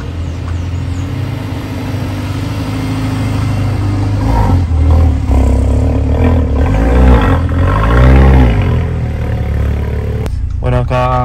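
Mercedes-AMG GLA 45 SUV from 2018 pulling away in drive: a loud, steady engine drone with rising and falling harmonic sweeps as it gathers speed, ending in a brief cutoff.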